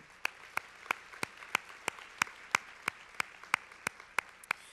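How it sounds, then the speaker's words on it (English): A small luncheon audience gives slow, evenly spaced claps, about fifteen sharp strikes heard close and fairly quiet, with no talking over them. "So give them a round of applause again."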